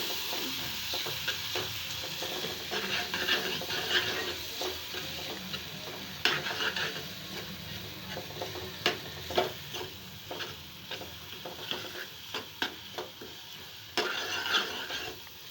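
Fish curry seasoned with chili powder is stirred in a frying pan, a soft continuous sizzle broken by repeated scraping strokes and light clinks, fairly quiet and with no talking.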